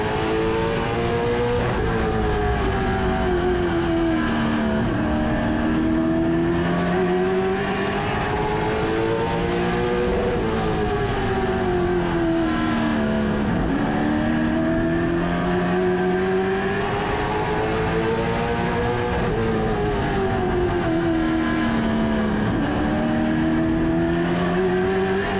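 A CARS Tour race car engine at Caraway Speedway, heard on board, drones loudly and continuously, its pitch sweeping up and down in a repeating cycle as the car accelerates down straights and lifts for corners lap after lap.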